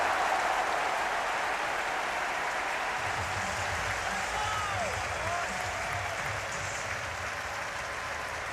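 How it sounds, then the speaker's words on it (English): A large crowd at a 2023 World Baseball Classic game between the Czech Republic and Korea roars and cheers in a dense, sustained wash of noise with scattered clapping, loud and continuous throughout. "Boy, they have a crowd behind them."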